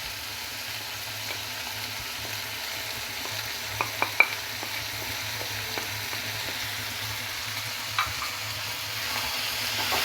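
Spices, salt, chili powder and turmeric stirred into ingredients in a hot frying pan, a steady sizzle throughout with occasional soft clicks of the spoon, close and continuous without talk.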